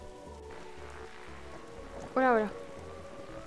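Steady rainfall from the video game The Darkside Detective hisses evenly in the background, while a voice speaks briefly over it.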